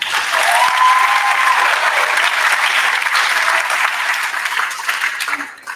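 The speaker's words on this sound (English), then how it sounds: "let's give them a big round of applause" Loud, sustained applause from a large crowd at a high school awards ceremony, a dense wash of clapping that holds steady for several seconds before tapering off.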